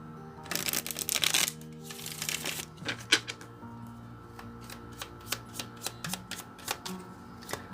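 Light Seers Tarot cards being shuffled close up, starting with a dense riffling flutter and then moving into a run of separate crisp card snaps and taps. No one speaks.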